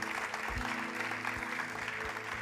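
Congregation applauding in a church service, a steady wash of clapping heard faintly at a distance, with low musical tones sustained underneath.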